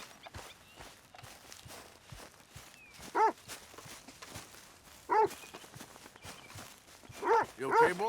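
Dog barking in the Red Dead Redemption 2 video game: three separate bark bursts, moderately loud, spaced a couple of seconds apart over footsteps and faint ambient game sound.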